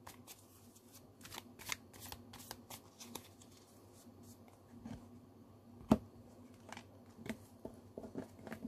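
Tarot cards are shuffled and drawn, giving a quiet run of soft riffles and quick flicking snaps spread across the clip, with one sharper card slap near the end and no talking.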